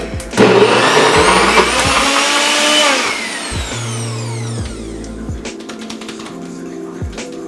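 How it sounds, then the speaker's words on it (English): A blender whirs loudly through an energy ball mixture with a splash of milk, running for about three seconds before winding down, followed by a few short mechanical pulses. "we're gonna put just a teeny little bit of milk in there. Help it blend up a little."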